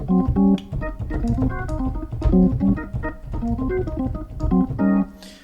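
A variation on a gospel shout lick played on organ, with punchy repeated chord stabs and quick runs in a busy rhythm, loud and up close, with no voices.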